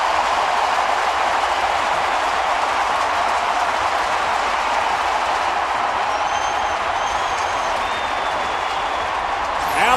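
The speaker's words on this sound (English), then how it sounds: "the crowd just erupts here at the Dome" A baseball crowd at the Dome roaring after a leaping catch by Gomez robbed Alex Rodriguez of a grand slam, a loud dense sustained cheer that holds steady throughout.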